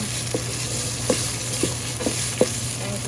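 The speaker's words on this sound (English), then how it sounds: "you're constantly mixing or stirring so it doesn't burn" Jollof base frying steadily in hot oil, a continuous soft sizzle with a few light scraping stirs of a spoon against the pot spaced through the clip.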